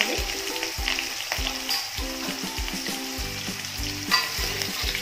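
Jackfruit pieces frying in hot oil in a pan, giving a continuous close sizzle with repeated stirring knocks and scrapes against the pan in a loose rhythm, no voices.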